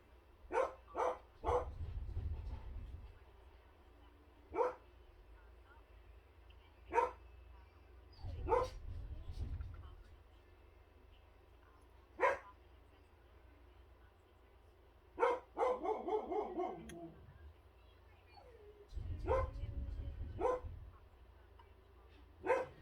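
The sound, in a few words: dogs barking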